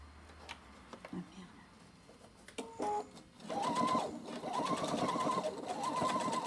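A sewing machine stitches a zipper in steady, rapid runs with brief pauses between, close by, following some quiet handling sounds.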